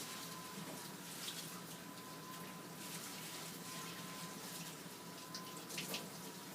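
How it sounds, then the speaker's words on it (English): Leafy greens swished by hand through a big bowl of water, giving a steady close watery sloshing and trickling that runs throughout with no talk. "And agitate it around, swish it around."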